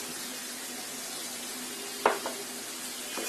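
Chicken frying in a pan with a tablespoon of tomato sauce added, a steady close sizzle broken by a sharp splash and hiss as the sauce goes in, then a brief clink.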